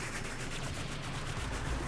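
Rapid automatic gunfire from the video game Warframe, a fast, even burst of shots lasting under two seconds, fairly faint and without speech.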